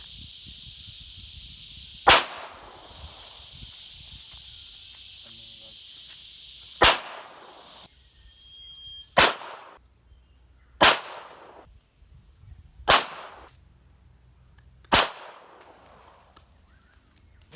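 Six sharp gunshots from a real handgun crack out one at a time at irregular intervals of one to two seconds, each loud and close with a short ringing tail, quiet gaps between.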